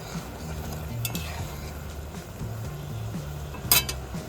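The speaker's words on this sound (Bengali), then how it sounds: "দেখো চিনির শিরাটা টকবক করে ফুটছে" Sugar syrup flavoured with cardamom bubbles and sizzles steadily in a pan, with a couple of sharp metallic clinks against the cookware.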